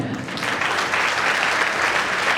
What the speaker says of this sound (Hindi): इस मुरली पर भी ऐसी तालियां बजती हैं